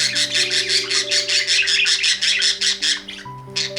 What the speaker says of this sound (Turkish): Anlaşamayan kuşlarda kavga sesi